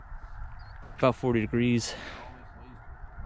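Geese honk in a wet, rainy field among a big decoy spread: three or four loud, close nasal calls in quick succession, with a person speaking around them.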